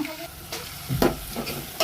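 A spoon stirs food frying in a little oil in a pan, with soft scraping strokes and a light sizzle heard close up for a couple of seconds.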